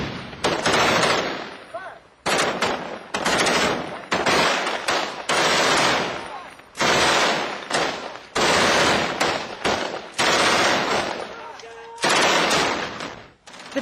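Heavy automatic gunfire in close combat against insurgents, long loud bursts one after another with brief gaps, harsh and near.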